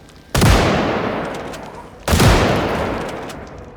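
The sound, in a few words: gunshots in video game Project Zomboid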